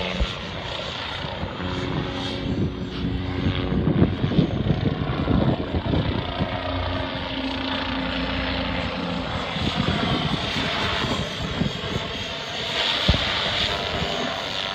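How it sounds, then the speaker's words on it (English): A radio-controlled Gaui X3 model helicopter's motor and rotor roar steadily, loud and close, with a dense rumbling drone that swells slightly as it lifts. "helicopter taking off on the left."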